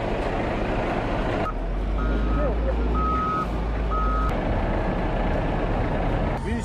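Heavy recovery vehicles and cranes work to pull a minibus free, a truck engine rumbling steadily while three evenly spaced reversing beeps sound in the middle, with a news narrator talking over it.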